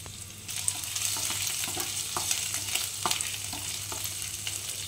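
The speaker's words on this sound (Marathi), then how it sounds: "जिरं साधारण फुललं की त्याच्यामध्ये आपण आलं लसणीचा जो ठेचा आहे तो घालणार आहोत।" Ginger-garlic paste fries with cumin and a bay leaf in hot oil, a steady moderate sizzle broken by light stirring taps and scrapes, with a low hum running underneath.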